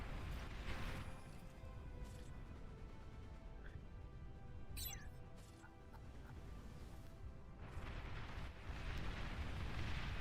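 A commander unit blowing up in the Beyond All Reason strategy game: a quiet, sustained rumbling blast texture with heavier bursts near the start and again toward the end, no talk.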